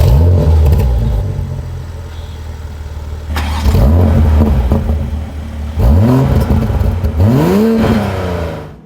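A BOLDMEN CR4 car engine revs hard several times, loud and close, each blip sweeping up in pitch then falling away, separated by lower idling rumble between the bursts.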